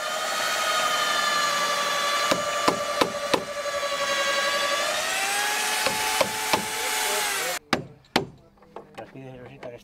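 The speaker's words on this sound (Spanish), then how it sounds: "le están haciendo un poco de casa para que se esconda la cabeza del tornillo" A tool cuts a recess into timber for a screw head, a sustained whining grind broken by sharp knocks, then a run of scattered thumps and clatter near the end; voices murmur faintly beneath.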